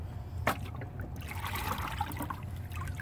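Water scooped and poured by hand into a container for a pet blue crayfish: a sharp splash near the start, then a steady close trickle and dribble with small liquid clinks.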